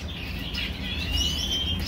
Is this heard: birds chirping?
yes